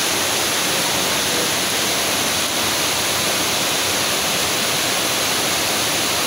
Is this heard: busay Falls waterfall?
yes